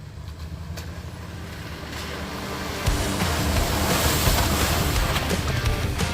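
Rushing, splashing creek water as an off-road vehicle fords Brushy Fork Creek at the bottom of Forest Service Road 1085 in Kentucky, a steady close roar mixed with wind buffeting that surges louder midway through.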